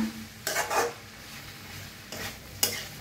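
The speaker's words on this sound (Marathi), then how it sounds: "एक मिनिटभर असंच हलवून भाजून घेऊया मस्त असं छान" Shredded cabbage stir-fried in a pan, two bursts of spatula stirring and scraping over a low steady sizzle, close and fairly loud, with quiet frying between them.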